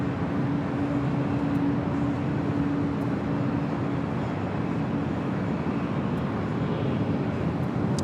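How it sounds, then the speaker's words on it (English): A United Airlines Boeing 777 at LAX, the first 777 delivered to the airline in 1995, produces a steady broad engine roar at moderate distance, constant in level throughout with no talk. "There she is, the first 777"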